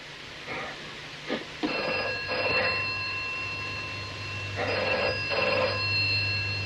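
A telephone bell rings in two pairs of short trilling bursts, fairly close and clear, with a low hum underneath and no voices.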